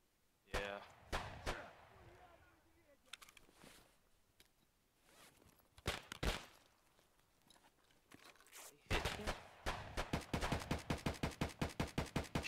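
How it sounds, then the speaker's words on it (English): Gunfire in the shooter game Escape from Tarkov, scattered single shots early on, then a fast automatic burst of evenly spaced cracks near the end, with quieter clicks and handling noise between. "they're shooting at me now"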